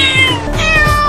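A cartoon cat meows in a single drawn-out, close, loud cry with rising and falling pitch, heard alone without speech.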